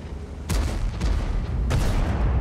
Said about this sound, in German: da ging es noch ein Schuss raus